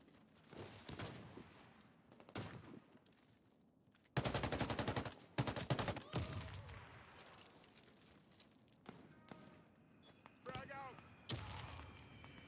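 AK rifle fire in the shooter game Warface, with loud bursts of automatic shots and one long sustained burst in the middle, plus scattered single shots, while a voice talks between them.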